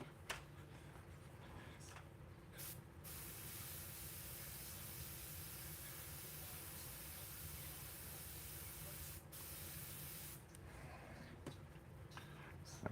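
Spray paint hisses onto a rose painting in a long, steady, fairly close stream with brief pauses between bursts, and a quiet voice is faintly audible beneath.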